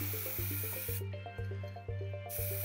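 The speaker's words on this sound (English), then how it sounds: "So here you see me already spraying the first coats after the treatment with rust converter." Spray paint hisses onto the rust-treated metal case of a rare Belgian DAI computer being restored. Steady bursts of close spray sit over a backing track of repetitive music.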